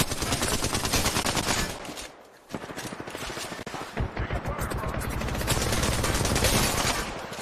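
Rapid bursts of automatic gunfire in a shooter video game, loud and dense, pausing briefly around the middle before resuming as continuous rattling fire.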